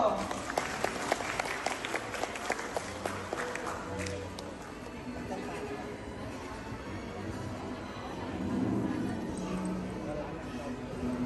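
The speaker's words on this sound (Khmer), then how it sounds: "សូមសម្លេងអបអរសាទរ" Applause from a graduation ceremony audience in Phnom Penh, a burst of clapping up front that thins into a softer, steady patter, with an announcer's voice over it.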